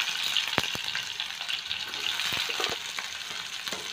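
Chopped onions hit hot oil with mustard seeds in a pan, giving a close, even sizzle punctuated by a few sharp pops and stirring clicks, with nobody speaking.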